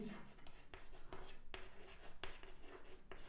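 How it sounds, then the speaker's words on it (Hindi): Chalk or marker writing on a classroom board during a maths lesson, a series of scratchy strokes and taps at irregular intervals while a teacher talks over it. "तो यहाँ पर लिखेंगे"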